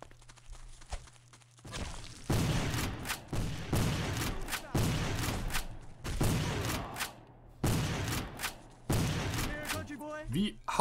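Gatling gun firing in Call of Duty, with several loud bursts of rapid cranked fire separated by short pauses, mechanical clatter between volleys, and a brief quiet stretch at the start.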